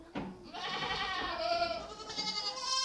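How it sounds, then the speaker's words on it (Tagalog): A Boer goat on a farm gives a long, wavering bleat that rises into a strained cry, loud and close, with no talk over it. "Ito yung boar goat namin na bagong bili from Davao."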